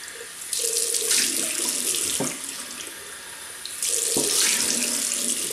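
Tap water runs steadily into a sink during rinsing after a shave, a close, loud hissing stream that briefly softens midway before surging again, with no talking.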